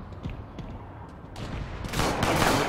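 Rapid SMG gunfire in the Shadowrun video game rattles in dense automatic bursts. It starts muffled and distant, then grows into louder close-range volleys near the end, with no voices heard.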